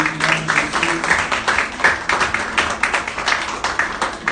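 A church congregation applauding, with steady rhythmic clapping from many hands continuing throughout, fairly close and loud, with faint voices underneath.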